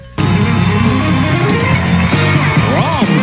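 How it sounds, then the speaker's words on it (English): Rap music with a strong, steady beat plays loudly and continuously, dense bass and rhythmic layers throughout, with a rising and falling sweep effect near the end. "It's rap music, and it sounds like this."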